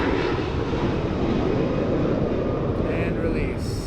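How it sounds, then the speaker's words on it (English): A fixed-wing airplane passes overhead close to an airport, its broad engine roar steady and loud for the whole stretch, with a faint higher whine creeping in near the end and a voice talking over it. "Here comes another plane."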